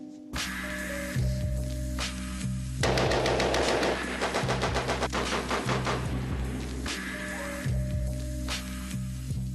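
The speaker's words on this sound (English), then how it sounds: "we're looking at one of the most revolutionary and important weapons of World War I, the machine gun" A World War I machine gun at a weapons test facility fires a sustained burst of rapid, loud, close shots, with a low mechanical hum before and after the burst.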